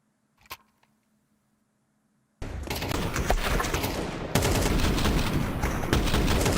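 AK rifle gunfire in Counter-Strike at an ESL Challenger League match: after a near-silent stretch with a single click, a sustained roar of rapid automatic fire erupts and intensifies, loud and continuous to the end.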